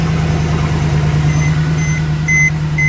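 A Mercedes C-Class engine idles just after a cold start, a close, steady, loud hum with a firm low drone, while faint short beeps sound intermittently in the background.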